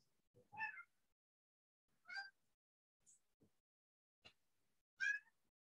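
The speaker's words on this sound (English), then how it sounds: "And here comes my cat." A cat meows several times in a quiet room, short separate calls spaced about a second apart, soft and fairly close, with no one talking.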